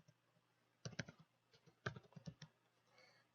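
Quiet bursts of clicks from a computer keyboard as a username and password are typed, two short clustered runs of keystrokes with a softer patter trailing off, no talking.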